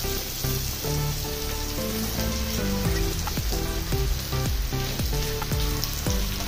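Bitter gourd pieces sizzling loudly as they go into hot oil with ginger-garlic paste and green chilli, a steady crackling fry with rhythmic stirring clinks of a spoon against the pan.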